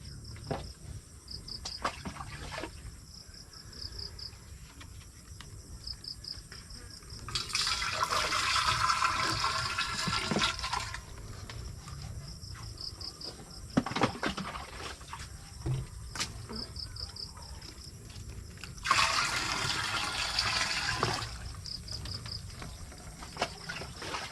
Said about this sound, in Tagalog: Try na po natin salitan ng tubig.